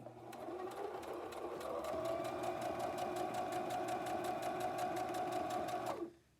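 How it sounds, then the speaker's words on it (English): Sewing machine stitching fabric, a steady, close, rapid mechanical whir with even needle clatter running for about six seconds before stopping abruptly, no talk over it. "Line up my fabric again. And put down my foot. And finish sewing."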